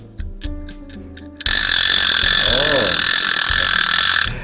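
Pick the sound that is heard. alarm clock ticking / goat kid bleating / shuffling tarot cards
alarm clock ticking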